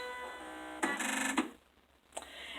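A computerized sewing machine powering on: a soft hum, then a bright half-second electronic whir with tonal chirps, a short dip, and a single brief beep-like blip near the end.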